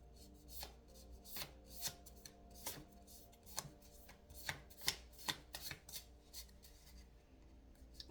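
A slightly sticky tarot card deck is shuffled by hand, giving a run of crisp, rapid riffles and soft flutters that repeat in bursts, close and fairly quiet.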